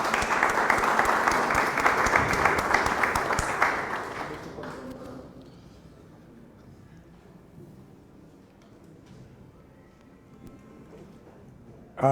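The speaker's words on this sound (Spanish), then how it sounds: "quien lo recibimos con un fuerte aplauso." Audience applause greets a speaker being introduced at a 2025 training event on human social development, a dense loud round of clapping that fades after about four seconds to quiet room noise.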